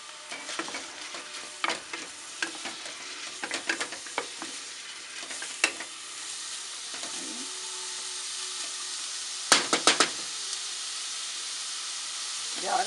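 Chopped onion hits hot oil in a pan where garlic was just browned, giving a steady broad sizzle with scattered stirring scrapes and a few louder clatters near the end.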